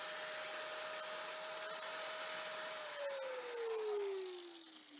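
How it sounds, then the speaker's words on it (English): Angle grinder cutting metal away to make room for bigger tires, a steady loud whine that drops in pitch as the disc bites and loads under pressure near the end, with no talking. "So I'll do a little grinding here to impress you."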